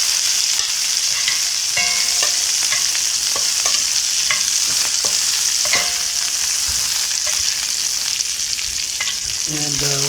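Beef pieces for Filipino beef mechado sear and sizzle in a hot pan, a steady loud frying hiss with occasional clicks and scrapes of turning, no talking.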